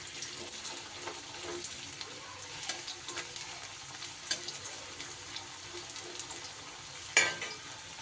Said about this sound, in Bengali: তেল গরম হয়ে গেলে প্রথমে আমি আলুগুলোকে একটু ভেজে নেব।